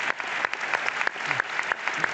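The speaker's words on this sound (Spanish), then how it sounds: "Un aplauso para José Carlos Ibarra." Applause from a live audience at a science talk event, brisk continuous clapping with distinct individual hand claps, moderately loud and alone without speech.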